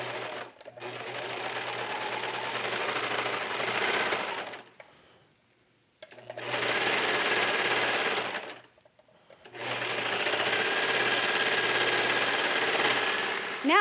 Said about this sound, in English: So now let's go over to the serger.